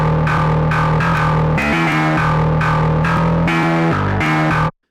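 Virtual eight-string metal guitar in FL Studio, run through a TSC 808 overdrive plugin after a Sound Goodizer, churns out a loud, gritty, distorted riff of repeated chugs and brief melodic runs, alone and close, cutting off sharply.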